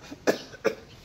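A man with a cough and fever coughs twice, short sharp bursts close to the listener about half a second apart, with quiet room background between them.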